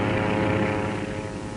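A fighter plane's engine drones loud and close as it fails with zero oil pressure, bucking and unable to hold altitude before ditching; the steady propeller roar fades slightly toward the end.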